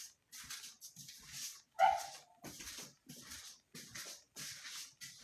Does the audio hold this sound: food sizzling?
no